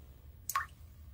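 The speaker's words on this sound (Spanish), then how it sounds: "¡El grifo está goteando!" A single drip from a leaking faucet in an animated cartoon, a short bright plop standing out against a quiet low background hum, with no voices.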